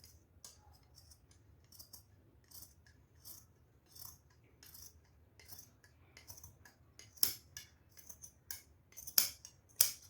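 Scissors cut through stretchy hosiery fabric for a body shaper, producing sharp close snips and metallic blade clicks at an irregular pace, louder toward the end, over a low room hum with no speech.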